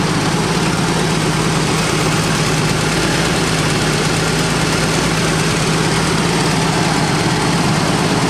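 A Ford Fairmont engine running at a steady idle, a loud, dense, continuous rumble with a low hum and faint knocking texture, close by with no talk.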